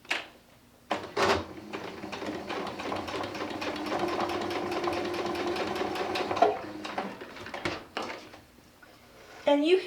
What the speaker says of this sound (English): Take this to your sewing machine and you're just going to sew 1/4 inch.